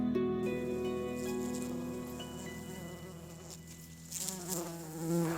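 Bees and other pollinators, including honeybees and mason bees, buzz among flowering plants in a Wyoming food forest, several close droning hums overlapping and shifting in pitch as insects fly near and away.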